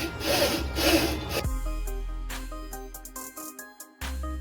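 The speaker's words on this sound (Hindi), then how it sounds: "गरारी के ऊपर रेगमाल लगा के भी रखते हैं" Sandpaper rubs against a washing machine gear, about two close, rough rasping strokes that stop after a moment, followed by steady tonal music-like notes.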